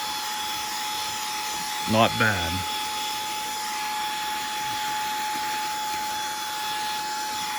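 A Koonie cordless air duster with its vacuum brush attachment runs steadily, giving a constant high-pitched motor whine with a strong tonal note throughout, while a person briefly speaks over it early on.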